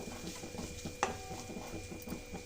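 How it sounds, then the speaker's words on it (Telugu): Grated fresh coconut frying in ghee in a pan, a steady soft sizzle with a spatula stirring and scraping throughout, plus one brief metallic clink near the middle. "ఈ కొబ్బరిని కూడా కొంచెంసేపు ఫ్రై చేసుకోవాలి నెయ్యిలో"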